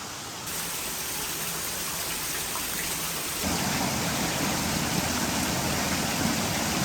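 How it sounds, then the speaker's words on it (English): Steady broadband rush of a waterfall near the Blue Grotto, a continuous wash of falling water that swells slightly louder partway through, with no voices. "You can just sit out here, just listen to the waterfall."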